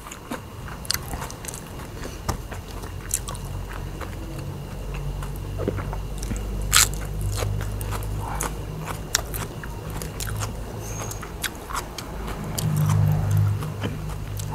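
Close, steady biting and chewing while eating Isan sausages and fresh chilies, with scattered crunches and wet mouth sounds over a low background hum and no talk.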